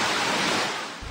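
Floodwater rushes through Purok Carvic in Bacolod City, Negros Occidental, a loud broadband roar of churning water that eases slightly toward the end.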